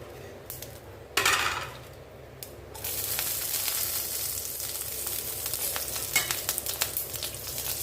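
Mustard seeds and broken urad dal tempering in ghee, a steady sizzle that rises after a short quiet start, with faint crackles and the odd clink of a utensil against the pan.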